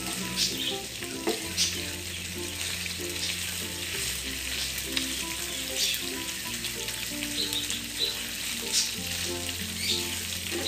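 Adobo ingredients fry in canola oil with a continuous, bubbly sizzle and stirring, while music plays underneath.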